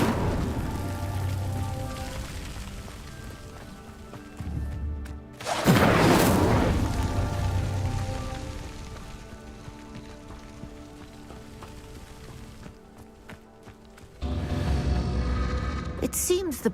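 An Incendio spell lights a pyre in Hogwarts Legacy with a sudden loud whoosh of flame, followed by a lower rushing burn over quiet ambient music, then another burst near the end.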